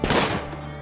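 A burst of gunfire from RimWorld combat: a loud, sharp volley of overlapping shots right at the start that fades into a low, steady hum with no talking.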